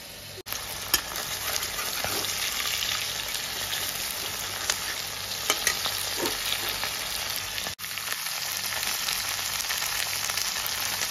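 Food sizzles and crackles steadily in a hot pan, a constant close hiss with a few sharper pops and one brief dip.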